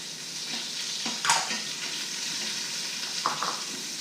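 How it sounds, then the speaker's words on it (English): Sliced white onion and whole garlic cloves sauté in an Instant Pot, a steady broadband sizzle with a couple of louder stirring scrapes, close and continuous with no voices. "And we're going to saute these until the onions are translucent"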